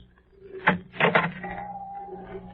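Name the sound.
door opening, radio drama sound effect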